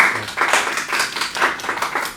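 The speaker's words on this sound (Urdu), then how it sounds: "تالیاں" Clapping from the audience of a TV game show after a cash prize is awarded, arriving as rhythmic bursts of fairly close hand claps that rise and fall in waves, with no talk over them.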